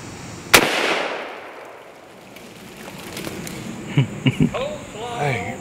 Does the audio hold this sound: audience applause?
no